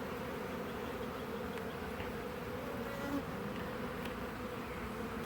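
A dense, steady insect drone of a swarm of many honeybees buzzing together as they leave, continuous and fairly close, with no voices.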